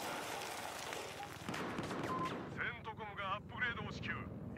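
Grenade blast and gunfire in the Battlefield 4 video game, a dense continuous barrage of shots and booms with a brief sharp burst near the middle, while a voice talks over the battle noise.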